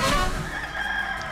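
A chicken in the video game Guacamelee 2 gives a short, bright cluck-like call, close and fairly loud over a steady game music backdrop, lasting barely more than a second.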